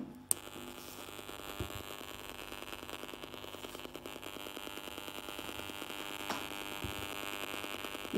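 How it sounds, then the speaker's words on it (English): Signal from a nearby Wi-Fi router, picked up by an AD8302 RF phase detector, comes through as a steady buzzing hum laced with static and fine pulsing, continuous and fairly quiet with no voices. "This is the Wi-Fi router near me that you can listen to the sound."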